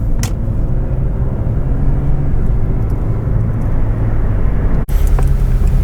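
A group of fast, handsome cars drives past on the Col de la Bonnette mountain road, making a loud, continuous close roar with a sharp bump near the end.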